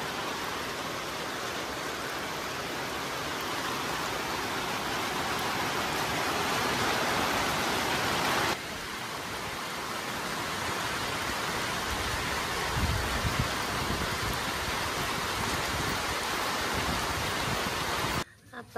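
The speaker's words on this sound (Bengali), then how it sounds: "কি পরিমাণ বৃষ্টি নামছে একবারে ঢল নেমে গেছে না" Heavy downpour in a village, a dense, loud, continuous roar of rain close by that shifts in texture partway through, with a few heavier splashes before it cuts off.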